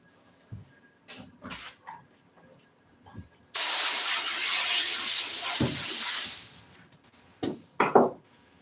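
A steady, loud hiss of spray glue lasting about three seconds, with scattered quiet knocks and handling sounds before and after, during upholstery work on a Polaris seat.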